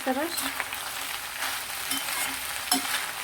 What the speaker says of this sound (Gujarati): સરસ તેલમાં આપણું વડું સોટે થઈ ગયું છે